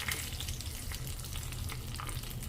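Dried red chilies and curry leaves sizzle in hot oil for a tempering, a steady, close crackling fry with light stirring throughout and no voices.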